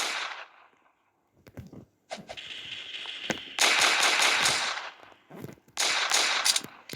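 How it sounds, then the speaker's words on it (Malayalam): Sharp gunfire bursts in a Roblox video game, scattered single cracks early on, then dense rapid volleys of shots, loud and close, with brief pauses between bursts. "ഈ ആരെയാണ് വെടിവെക്കുന്നത്?"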